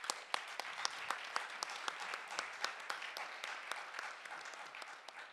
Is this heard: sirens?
no